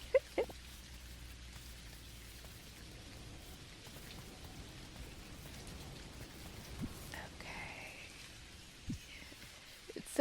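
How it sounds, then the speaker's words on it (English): Soft, steady rain in the video game Dinkum, a faint continuous patter with a few scattered louder drops and taps, low in level throughout. "I feel like the rain makes it even harder to..."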